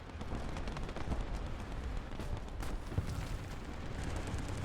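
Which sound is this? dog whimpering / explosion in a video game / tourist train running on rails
explosion in a video game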